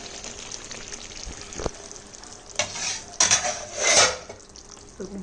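Jhinge posto, ridge gourd cooked with poppy seed, sizzling in oil in a pan, with a steady hiss under occasional stirring scrapes and utensil clinks that swell into a louder sizzling burst near the end.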